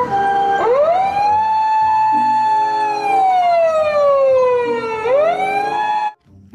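A toy ambulance emits a loud electronic siren, a continuous wailing tone that rises sharply, holds, slowly falls and then climbs again, played alone before cutting off.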